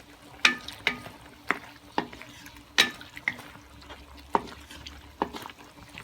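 Sesame chicken being stirred in a frying pan (kawali), with a series of sharp clinking scrapes of a utensil against the pan at an irregular pace over a faint sizzle.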